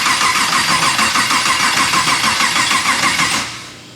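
LS3 V8 swapped into a BMW E46 cranking over with a loud, rapid, rhythmic starter chug for several seconds before the sound drops away near the end, with no voices.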